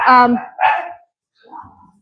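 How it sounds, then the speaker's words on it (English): Dogs bark while playing indoors: two sharp, loud barks in quick succession, a short pause, then a softer, lower yip. "The dogs would choose to play right now."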